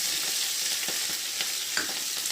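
Curry leaves and onions crackle and sizzle in hot oil, a steady, busy frying hiss with small pops throughout.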